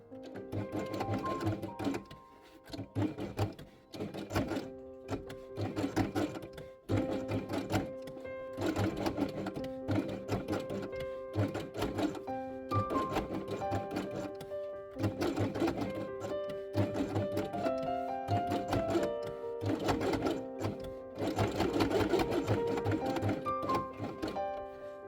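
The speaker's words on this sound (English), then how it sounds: "sew each one along the edge with white and yellow thread" Sewing machine stitching small fabric sun and cloud shapes for an Easter quiet book, running in steady bursts of rapid mechanical clatter with short pauses between seams, close and loud, no voices.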